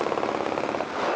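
Gunfire during a shooting on a city street, heard as a quick burst of rapid, rattling shots that runs through the whole brief moment, harsh and somewhat distorted.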